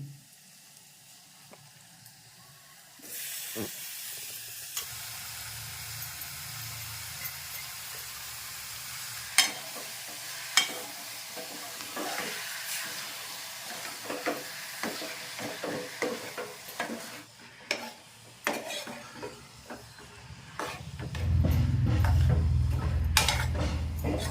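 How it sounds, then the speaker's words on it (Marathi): Jackfruit fus-bhaji with garam masala sizzles and fries in a pan, starting quietly then swelling into steady hissing with frequent clinks and scrapes of a stirring spoon, growing louder near the end; no talking. "आणि आता फुसभाजी परतून झाल्यानंतर मी खोबरं टाकते"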